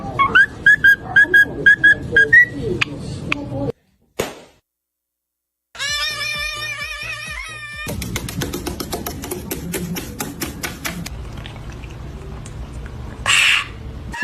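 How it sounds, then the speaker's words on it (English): A parrot whistling close and loud, first a string of short repeated whistle notes, then after a silent gap a longer warbling, wavering whistle, followed by chirps and clicks over background noise. "Parrots are very special."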